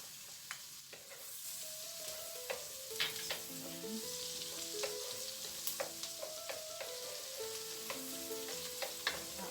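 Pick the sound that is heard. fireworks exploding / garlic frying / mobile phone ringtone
garlic frying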